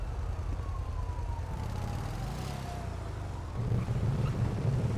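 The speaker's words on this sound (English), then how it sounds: "I still hear sirens." Police sirens wail faintly in a video game, a thin wavering tone drifting downward behind a low, rumbling wind-like bed that swells louder near the end.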